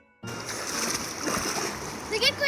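Water splashing and sloshing continuously at close range in a river, with a voice briefly audible near the end.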